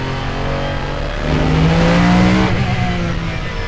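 A very loud car exhaust roars up close while driving, rising in a revving surge through the middle before easing slightly, with a squeal-like tone and no talking.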